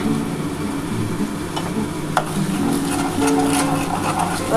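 Ingredients for a jackfruit and chana dal fry in a pan with a steady, close sizzle, a brief scrape of stirring partway through, and faint background hum.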